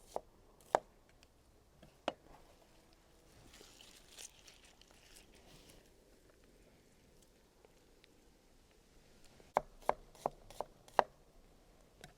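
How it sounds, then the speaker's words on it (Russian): A knife thinly slices onion on a board for a lamb shashlik marinade, giving a few sparse, crisp taps early on and then a quick cluster of cuts near the end, quiet and close with no talk. "я лук нарезаю очень тоненько, чтобы максимально отдать все концентрированные ароматы к мясу"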